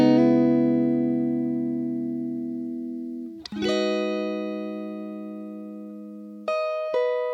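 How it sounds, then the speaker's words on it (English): An electric guitar with no effects rings out two sustained chords in a one-to-five progression: the first decays slowly, then a quick change brings in the second, followed by a couple of light restrikes. "this is how the guitar sounds without any effects"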